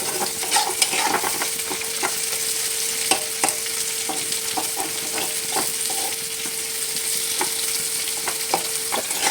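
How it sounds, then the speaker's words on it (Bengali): Onions frying in a pan, a continuous close sizzle with frequent sharp scraping knocks of stirring spread across the whole stretch, fairly loud and with no talking. "এবার আমি ভালো করে পেঁয়াজটা ভেজে নেব।"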